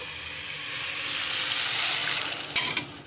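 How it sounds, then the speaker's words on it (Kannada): Spiced masala for an ivy gourd curry fries in a pan, giving a steady close sizzle that holds through, with a couple of sharper splutters or stirring scrapes near the end; no voices. "ಇದು ಆವಾಗಲೇ ಫ್ರೈ ಆಗಿದೆ."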